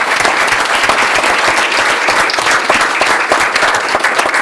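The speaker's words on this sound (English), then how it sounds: "We really owe them a round of applause" Sustained, loud applause from an audience at a township council meeting, dense clapping throughout with no pauses.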